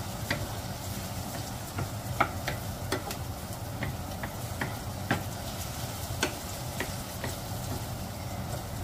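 Onions frying and starting to caramelize in a pan, a steady close sizzle with sharp clicks and scrapes of stirring scattered throughout.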